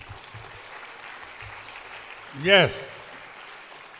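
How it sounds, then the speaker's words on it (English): Faint, steady applause from an audience at an awards gala, with a brief loud voice and whoop cutting through midway. "Big round of applause one more time"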